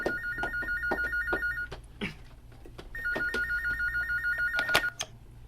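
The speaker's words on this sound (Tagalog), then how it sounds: "Ay, ang telepono." A telephone rings indoors in two close bursts of rapid electronic trilling, separated by a brief pause. A few soft knocks and clatters sit between the rings, and no one speaks.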